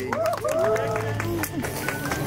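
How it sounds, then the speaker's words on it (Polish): A crowd at a KJS Rally Park 2023 awards ceremony claps for the second-place rally crew, scattered applause mixed with an announcer's voice over a loudspeaker. "Wielkie brawa!"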